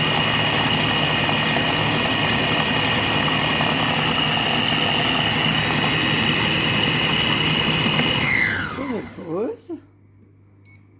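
A Compact Cook Pro food processor motor runs steadily at speed 7 while making a carrot and apple soup with coconut milk, giving a loud, constant whine that winds down near the end.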